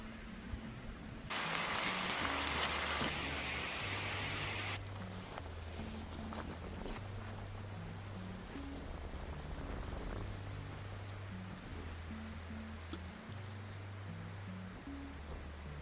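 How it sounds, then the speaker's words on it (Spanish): Steady rain hisses throughout, briefly louder and closer for a couple of seconds, with a low repeating electronic tone beneath it. "está lloviendo terrible"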